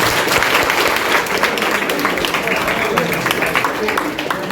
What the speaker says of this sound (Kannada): ನಿನ್ನ ಸಾಧನೆಗೆ ನಮ್ಮೆಲ್ಲರ ಚಪ್ಪಾಳೆ